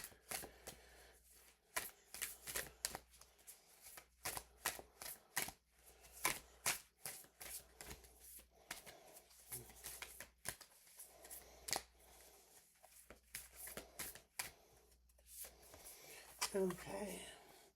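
Healing Spirit cards by Gordon Smith are shuffled in quick, crisp bursts of riffling and snapping, close and fairly quiet, with pauses between the runs.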